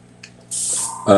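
An airbrush or spray can sprays brown paint over a base colour in a short hissing burst, with a faint click before it and a louder rattling, clattering sound at the end, close by.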